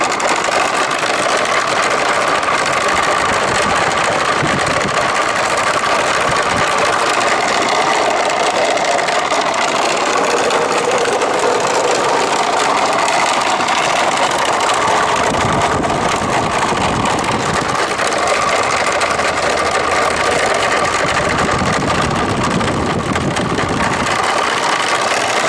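A homemade, gear-driven forge blower, its gears coated in paste wax, spins at top speed with a loud, unbroken whirring hum that holds steady for the whole stretch.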